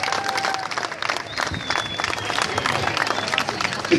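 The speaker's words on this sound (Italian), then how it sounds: "facciamo un bel applauso agli amici" An audience applauds after a folk group performance in a village in Sardinia, a dense and steady wash of clapping from many hands, close and fairly loud, with a voice heard faintly underneath.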